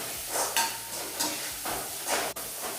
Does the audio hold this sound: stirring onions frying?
yes